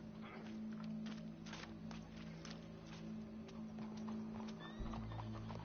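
A horse neighs and its hooves clip-clop along amid a low-pitched steady hum, with scattered thuds and clatter around it.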